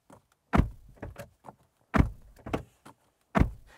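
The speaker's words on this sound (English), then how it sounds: "This is what door slam sounds like." Doors on a 2024 Chery Tiggo 8 Pro Max seven-seat SUV are slammed shut several times. The close, heavy thuds are separated by short pauses, with small rattles and latch clicks between them.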